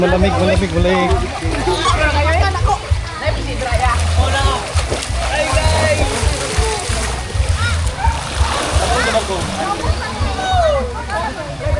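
Rushing, splashing water at Maria Cristina Falls fills the scene as a loud, constant roar, with several people talking and exclaiming over it throughout.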